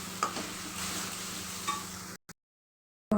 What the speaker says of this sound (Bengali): এবার একটা নাড়িয়ে চাড়িয়ে মিশিয়ে নিই।